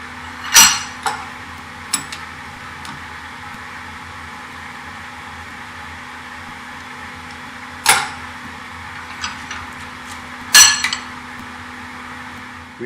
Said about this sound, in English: Grab it with our twisting wrench and twist it a quarter turn counterclockwise